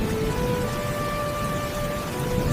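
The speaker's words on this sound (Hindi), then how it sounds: "ये बारिश तो रुकने का नाम ही नहीं ले रही।" Heavy rain pours down in a steady, dense hiss with no break, a loud and continuous wash of falling water alone without any voices.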